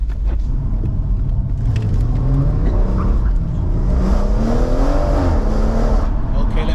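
A BMW M140 engine revs hard, rising and falling pitch sweeps over a loud continuous rumble, close and heavy throughout, with people talking underneath.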